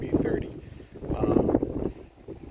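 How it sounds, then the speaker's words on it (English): Outdoor wind buffets the microphone in uneven low rumbling gusts, rising and falling throughout, underneath a person talking. "it's a bit windy"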